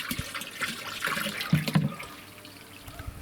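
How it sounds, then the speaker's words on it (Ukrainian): Water runs and splashes unevenly, with a few louder gurgling bursts in the middle before it settles into a softer trickle. "Так, вода вже добігає в мене."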